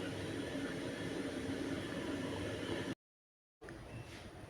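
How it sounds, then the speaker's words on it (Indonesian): Pempek adaan, Palembang fish balls, frying in hot oil in a wok: a steady, loud, dense sizzle that runs continuously, cuts out briefly to silence, then resumes. "Lanjut kita goreng sampai pempek adaannya matang."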